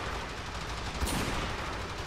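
Gunfire in the video game Warframe, a dense steady burst of rapid shots with one sharper crack about midway, heard alone without voices.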